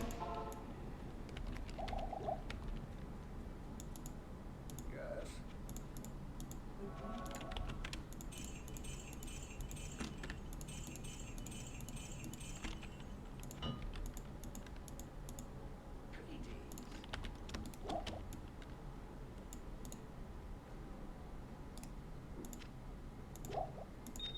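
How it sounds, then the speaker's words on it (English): Dense, fast mouse clicking and key tapping during Diablo II play, a close, fairly quiet stream of small clicks lasting throughout, with faint game tones and chimes mixed underneath. "I'm sure you can hear my frenzied clicking."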